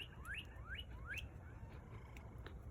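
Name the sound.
bird chirping in the morning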